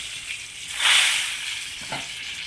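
Hot tempering is poured into tomato rasam and gives a loud hiss and sizzle that swells, then settles into steady frying crackle, close up with no talking.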